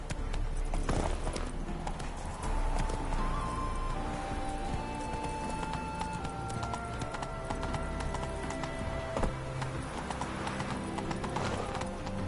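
Roach, Geralt's horse in The Witcher III, gallops in a steady clip-clop rhythm of hooves under a dense in-game ambience with music and a faint neigh. No one speaks.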